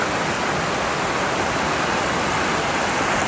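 Early-season, somewhat discoloured snow-melt stream rushing steadily in New Zealand, a dense, continuous broadband roar with no pauses or voices.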